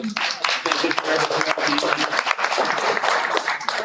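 A bar crowd at a comedy and mayoral talk night gives a quick round of applause for the bartender, loud close clapping with cheers and voices mixed in throughout.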